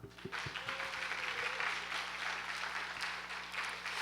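Congregation applauding in worship at a church summer camp opening service, a steady, moderately distant wash of clapping from many people lasting a few seconds.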